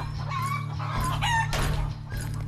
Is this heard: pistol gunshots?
no